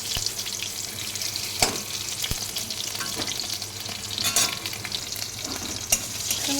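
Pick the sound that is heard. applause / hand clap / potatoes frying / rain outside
potatoes frying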